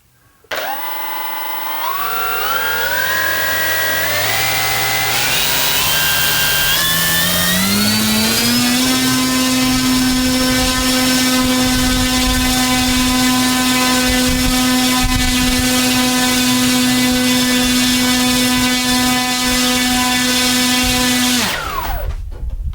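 Electric motor and propeller of a Robbe Air Trainer 140 RC plane on 4S power, tail secured, ramping up in steps to full throttle with a rising whine, holding a loud steady tone for about twelve seconds, then cutting off.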